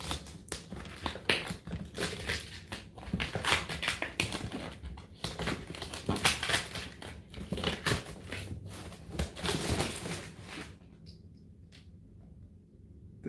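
Someone slices open a package of new skateboard gear, with close, busy crinkling, scraping and tearing of packaging for about ten seconds before it fades to near silence.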